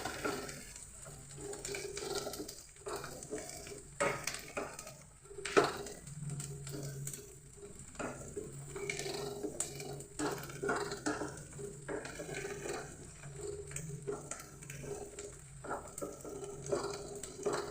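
Garlic frying in oil for a garlic pickle, stirred continually in a pan, giving a quiet sizzle broken by repeated light scrapes and clinks of the spoon against the pan.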